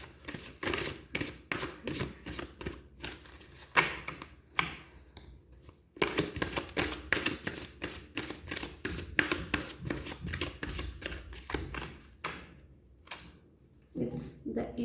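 Tarot cards are shuffled and drawn by hand, giving quick, close, rhythmic riffling and flicking bursts with brief pauses, while a voice talks quietly underneath.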